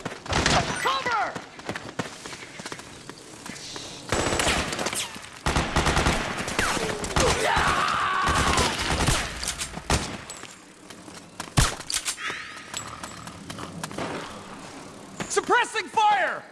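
Gunfire in the Metal Gear Solid 4 video game, bursts of rapid automatic shots and single cracks scattered through a battle, with soldiers' voices shouting over the shooting.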